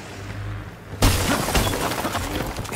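Amber shatters in Star Wars Battlefront II on PS4. A quiet hum breaks into a sudden loud crash, and dense crackling, splintering debris noise follows and keeps on.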